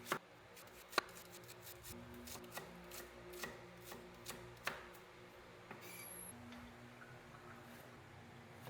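Irregular knife chops on a cutting board, sharp taps spaced apart over a quiet background, close and fairly soft.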